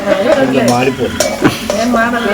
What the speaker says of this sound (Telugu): ఇక్కడ మా డాడీ అయితే చూడండి మంచి కలుపుతున్నారు